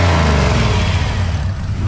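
A truck engine fitted with Holley Sniper EFI revving loud and close, a dense rumbling roar that holds steady through the short burst.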